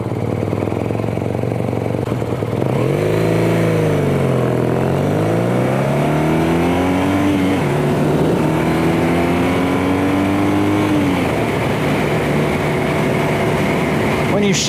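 A BMW R nineT Racer motorcycle pulls away and accelerates, its engine note rising through the revs, dropping at a gear shift and climbing again, loud and close, with a voice speaking over the engine.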